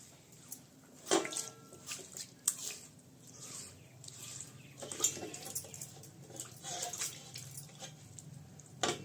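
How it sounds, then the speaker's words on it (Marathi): Water splashes and scrubbing sounds come in irregular bursts as a grinding stone slab is washed close by, with squishy rubbing and occasional drips. "पाटा आपण स्वच्छ पाण्यानं धुवून घेऊ"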